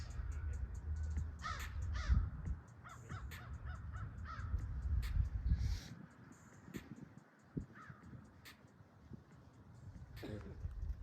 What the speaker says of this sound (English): We got crows flying out here.